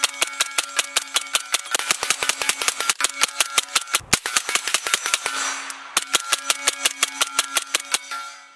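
Rapid semi-automatic shots from a Sig MCX Tacops rifle in 300 BLK, a fast even string of sharp loud cracks with a short pause partway through, then more shots in quick succession.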